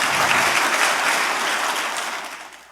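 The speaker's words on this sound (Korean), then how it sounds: "우리 모두 축하의 박수를 함께 치면서" Audience applause at a first Map Day commemorative ceremony, a dense, steady wash of clapping from a large indoor crowd that holds loud and gradually tapers off, with no talk over it.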